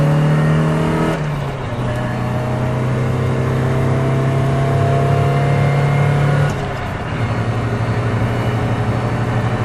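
A 1995 Mazda Miata NA drops to third gear, with a brief dip in engine note, then pulls hard out of a corner, its engine revving steadily and loudly from close inside the car.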